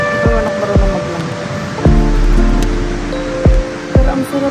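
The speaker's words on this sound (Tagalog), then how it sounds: "Sobrang lakas ng alon, guys." Strong ocean surf rolling onto a beach, a loud rushing wash that swells and recedes, with sharp swooping whistle-like tones cutting in repeatedly over the steady roar.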